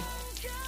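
Rain falls in the video game Sakura School Simulator, a brief steady patter and hiss with no speech.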